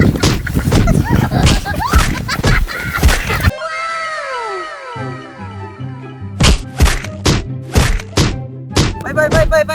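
A group strikes someone during a birthday bomb prank, landing a rapid burst of sharp slaps and thumps close by, with raised voices and yelling mixed in and a louder flurry of blows near the end.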